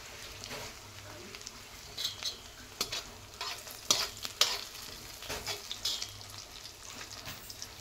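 Garlic and ginger paste sizzling in a pan for samosa filling, with a soft, steady fry and scraping stirs and light clinks against the pan.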